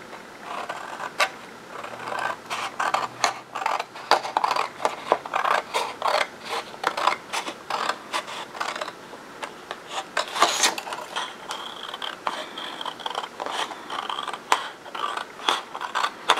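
Scissors cut around a paper shape in short, irregular snips and rustles, close and fairly soft, with a brief paper crinkle partway through.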